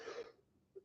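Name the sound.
coughing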